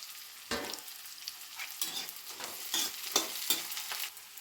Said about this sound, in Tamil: அரிஞ்சு வச்சுருக்க வெங்காயம் நல்லா வதங்கணும்